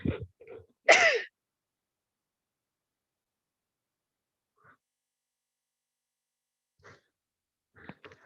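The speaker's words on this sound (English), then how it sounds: "Feel sneeze coming up." A single sharp sneeze bursts out close by near the start, followed by long quiet with a few faint distant sounds.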